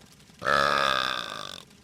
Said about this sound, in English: Expel some gas by pressing the R button slightly.